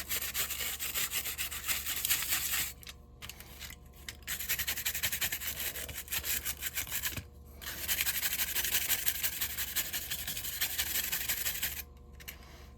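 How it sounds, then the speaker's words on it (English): Rust being scrubbed off the metal body of a Lionel 3484 operating box car, a steady close rasping rub in long strokes with a few short pauses between bursts. "Just give it a good scrubbing here."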